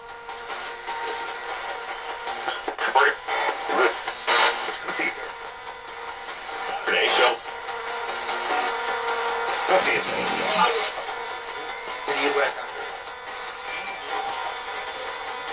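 Ghost box radio white noise during a paranormal spirit session: a steady hiss of static with bursts and sweeps, heard continuously and fairly loud, with a voice speaking faintly in places.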